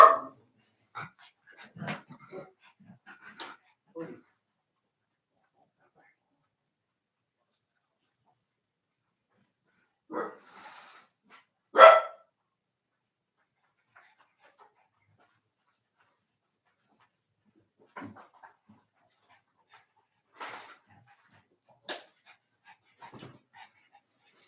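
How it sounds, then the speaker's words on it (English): A pet dog barks and pants indoors in a few scattered short bursts, with long silent gaps between them, fairly near and alone without any talk. "Bailey's barking at Eddie."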